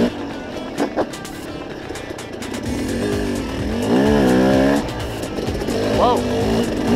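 KTM 300 and 250 enduro dirt bikes ride a practice trail, engines revving and rising in pitch up close, with riders talking loudly over the motor noise.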